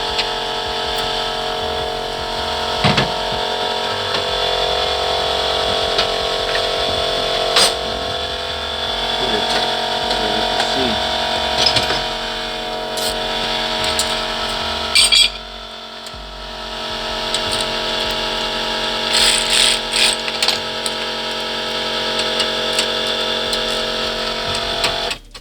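A power tool loosening bolts on a car while brake rotors and pads are changed, a continuous mechanical whirring hum with brief louder rattling bursts, close by and steady, with faint voices underneath.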